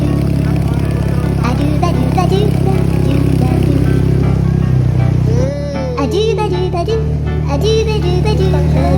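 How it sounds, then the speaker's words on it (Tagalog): A Suzuki Sniper 155 motorcycle runs with a steady, loud engine drone while riding along a street, the pitch dipping partway through, with voices talking over it. "medyo nanginginig po ang motor namin"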